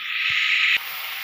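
Potatoes and eggplant drop into a hot pan of oil tempered with cumin, bringing a loud, close sizzling hiss that lasts under a second before abruptly dying down to a softer sputter.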